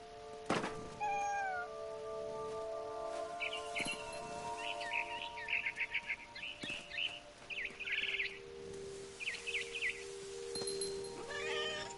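A cat meowing in a PS4 video game, several short drawn-out meows over steady tonal game music, with scattered chirping bird calls through the middle, faint and without talk.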